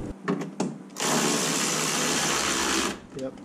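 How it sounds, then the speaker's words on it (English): A power driver whirs steadily for about two seconds, driving a bolt into an RMAX inner fender while a mud shield is fitted, with short clicks and knocks before and after. "Let's get that bolt in."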